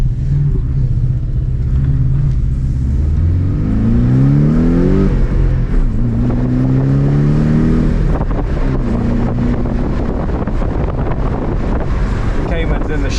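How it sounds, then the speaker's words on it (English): A Porsche Boxster GTS with a manual gearbox drives along under steady wind buffeting, its engine note climbing in repeated rising sweeps as it accelerates through the gears. "So I'm driving this loaner Boxster GTS stick shift."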